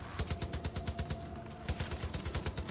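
Rapid, evenly spaced bursts of machine gun fire in Far Cry 5 Dead Living Zombies, a long steady stream of loud shots with a brief stutter near the middle before the firing resumes.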